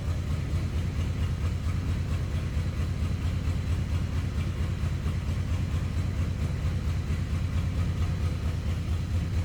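A 1960 Chrysler Windsor sedan with the 383 Golden Lion V8 idles warm, a steady low rumbling drone heard from behind the car, close and unbroken with no talk.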